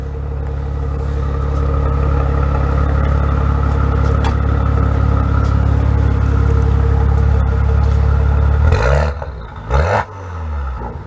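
Exhaust of a 2017 Maserati Ghibli SQ4 AWD held at a loud, steady high-rpm roar that drops off sharply near the end, followed by a couple of short blips as the revs fall.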